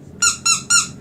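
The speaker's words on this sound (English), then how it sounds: "can we give him a squeaker?" A squeaky dog toy at a dog groomer's squeaks three times in quick, even succession, loud, close and bright against a quiet room.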